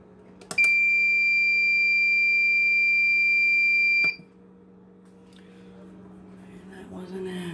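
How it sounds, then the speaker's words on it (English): A Nurture Right 360 quail egg incubator gives off one loud, continuous high-pitched electronic beep that holds for several seconds and then cuts off sharply, leaving a low hum of room noise behind. "might have some loud beeping"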